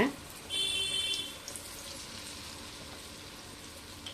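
Wheat flour bonda batter is dropped into hot oil, tea-shop style, giving a faint sizzle that swells for about a second before settling into a soft, quiet hiss.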